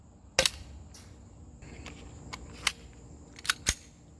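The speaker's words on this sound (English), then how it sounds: "it actually starts off firing hotter than that, but drops significantly with every successive shot, like gas mag pistols tend to do." Several sharp snapping shots from an ICS BLE-XAE gas blowback airsoft pistol firing 0.20 g BBs, irregularly spaced, each with a crisp slide clack.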